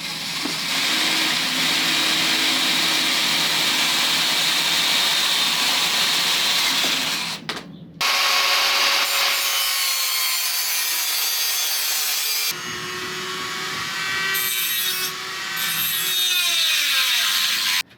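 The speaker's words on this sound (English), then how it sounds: "Next up is to cut the slit in the back and get that seat collar on" A power tool cuts a slit in the back of a titanium bike frame for a seat collar, a loud sustained grinding whine with a brief pause midway, then resuming with shifting pitch until it winds down.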